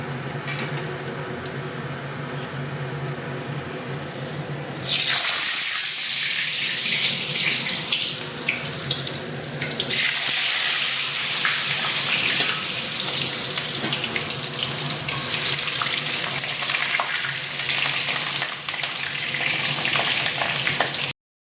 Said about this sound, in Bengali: এবার একে একে আলুগুলো সব দিয়ে দেবো, হালকা ফ্রাই করে নেবো।